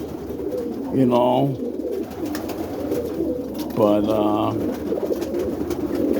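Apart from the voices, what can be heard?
roller pigeons cooing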